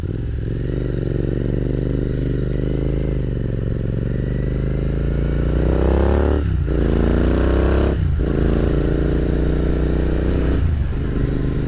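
Royal Enfield Continental GT motorcycle riding through city streets, a steady low engine drone with rising rev sweeps as it accelerates through the gears, close and loud throughout with no talk.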